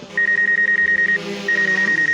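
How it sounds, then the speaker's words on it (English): Rapid, evenly spaced high-pitched beeps repeat in two quick bursts over a low background hum, like a drone's obstacle warning. "I have obstacle avoidance on, so at every point in time, this drone just keeps beeping."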